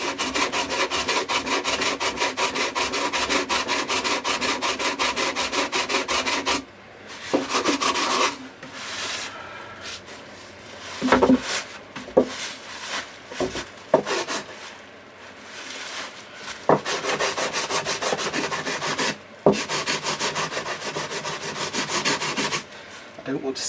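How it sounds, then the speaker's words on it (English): Hand sanding of a wooden guitar body with sandpaper during grain filling, ready for finish: close, steady rhythmic scraping strokes that pause and restart in short bursts, with no talking. "I don't want to sand very much around here because of the level."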